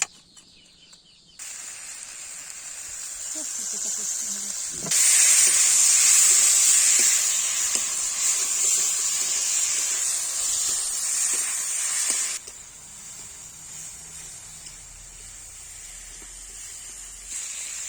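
A loud, steady hiss of food frying in oil swells for several seconds, then drops to a quieter sizzle that continues to the end.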